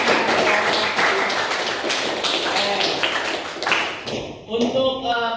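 A classroom of students claps together at the end of a chemistry lesson, a dense sustained patter of many hands that fades as a voice starts speaking.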